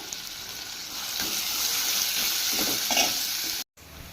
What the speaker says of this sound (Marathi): मी फ्राय करून घेते ब्राऊन होईपर्यंत कांदा